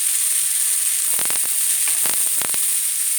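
Chopped karela, or bitter melon, sizzles steadily as it hits a hot pan on medium-high heat, with a bright constant hiss broken by a few short crackles and stirring clatters, close and loud with no talking.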